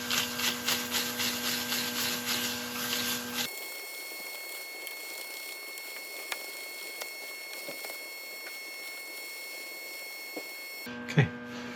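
Gold embellishing wax rubbed into the grain of turned wood: a rhythmic rubbing at the start over a humming lathe, then a quieter stretch of faint hum with a few light knocks.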